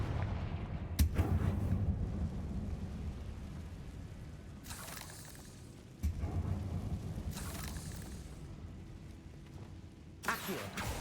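Confringo spell blasts in Hogwarts Legacy, several booming, explosive hits spaced a few seconds apart, each followed by a rolling decay over low game ambience.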